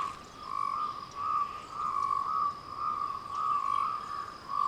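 A Cape rain frog calls in a steady series of short, shrill croaks repeating at a regular rhythm, fairly close and clear against a quiet background.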